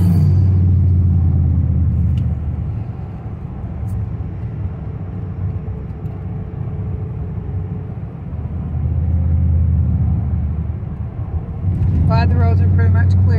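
A car driving down a clear winter road in Michigan, giving a steady low engine and road rumble heard from inside the cabin that swells and eases, with a brief higher rattling near the end.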